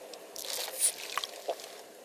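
Drinking water in the Fallout New Vegas video game, Dead Money add-on: a short run of wet squishing, dripping gulps with a few sharp clicks, heard alone and fairly close.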